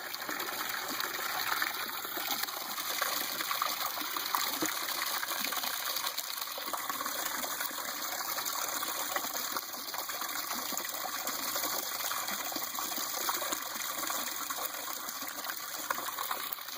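Water runs steadily into an aquaponic grow bed fitted with an ABS bell siphon, a constant close trickle and gush with no pauses and no talking.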